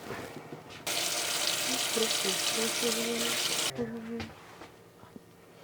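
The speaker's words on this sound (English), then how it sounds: "same thing, you want to rinse it out" A tap runs steadily for about three seconds while a 3D printed Keysplint Soft nightguard is rinsed, then shuts off abruptly. Quieter handling sounds follow, and a voice is faintly audible under the water.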